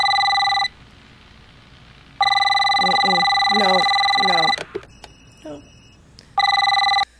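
A telephone rings loudly in a scene from the movie Constantine, with an electronic ring in repeated long bursts and a voice speaking briefly between them.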